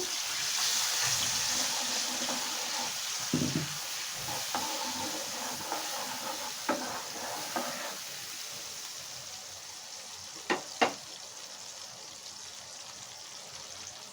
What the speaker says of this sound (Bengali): এখন মশলাটা পুড়ে না যায় এজন্য একটু জল দিয়ে দিচ্ছি।